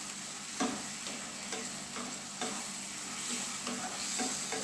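Chicken with dark soy sauce stirred in a hot pan, a constant loud sizzle with regular scraping strokes every second or so, close and unaccompanied by speech.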